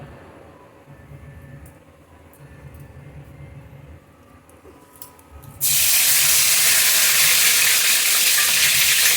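Quiet kitchen background gives way abruptly to a loud, sustained hiss and crackle as panch phoron spices hit hot oil and keep sizzling strongly to the end.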